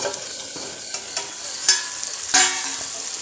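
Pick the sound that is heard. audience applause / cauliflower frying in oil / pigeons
cauliflower frying in oil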